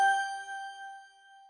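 A single bright chime rings once and fades out slowly with a clear, lingering tone.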